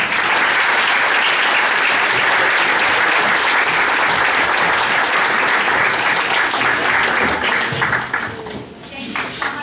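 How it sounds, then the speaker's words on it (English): A winter concert audience breaks into loud, sustained applause, many hands clapping densely before the clapping thins and tapers off at the close. "So one more round of applause, please."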